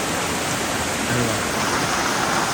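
Monsoon rainwater runs down from the hills as a clear stream, a steady, full rushing wash that holds evenly throughout, with a faint voice briefly underneath.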